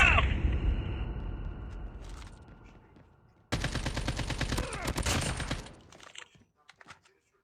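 Gunfire in Call of Duty Mobile, loud rapid automatic bursts and crackling shots close up, with a heavy burst at the start and another sustained volley midway before fading to sparse clicks.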